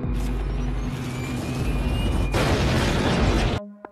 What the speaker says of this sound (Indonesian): lalu helikopter itu meledak setelah tersangkut di kabel listrik